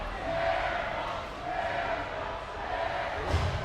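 A hockey crowd at a high school game in an ice arena chants, a broad roar of many voices swelling and falling in a loose rhythm, heard from a distance in a reverberant rink.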